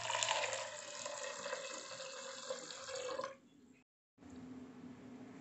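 Water pours steadily into a pressure cooker holding wheat, a close, continuous splashing fill that stops briefly before resuming more quietly.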